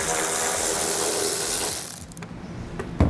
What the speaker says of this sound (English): Next, we'll take a 10mm socket and remove these two bolts.